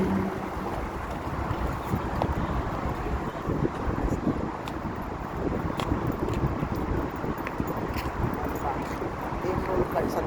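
Gusty outdoor wind buffeting the microphone on a warm, breezy day outside the Mall of the Emirates in Dubai, a steady broadband roar with constant rumble throughout.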